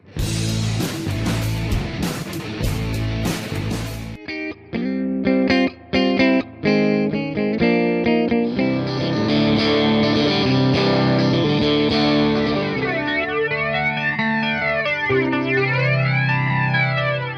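Electric guitar played through a blonde-finish Fender Tonemaster Twin Reverb amplifier, opening with a loud distorted burst, then sustained chiming chords and notes soaked in chorus, echo and sweeping modulation effects, with no talking.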